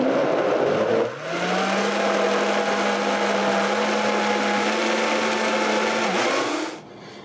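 A blender whirs loudly, mixing a vegan chocolate ice cream base. It starts abruptly, holds a steady high drone for about five seconds, dips briefly in pitch and then winds down.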